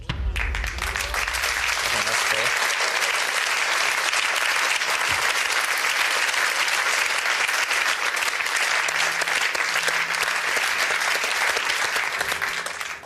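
A television game show studio audience breaks into loud, sustained applause that runs steadily for the full stretch without pause, the clapping dense and even throughout.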